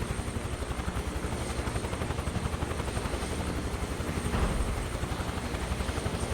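Huey helicopter in Microsoft Flight Simulator 2024 on Mt. Kilimanjaro, rotor blades thumping in a fast, even beat over a dense turbine whine, steady and close throughout.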